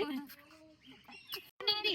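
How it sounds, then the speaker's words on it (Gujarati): A pheasant at a safari park gives short, harsh, crow-like calls close by, with people talking around it. "ઈ પણ બોલે છે કાગડા જેવું"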